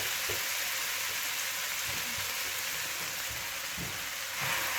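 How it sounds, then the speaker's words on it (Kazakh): A continuous hiss of onions frying in hot oil for plov, dense and even throughout, with faint low knocks underneath and no voices. "Пиязымыз жақсылап қуырылып жатқан кезде"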